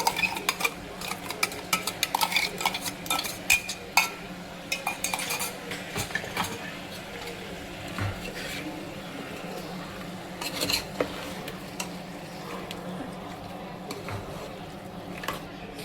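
Chicken biryani mixture with almond-cashew paste being stirred in a pot, a steady run of scraping and clinking spoon-on-metal sounds throughout, moderately close with no talking.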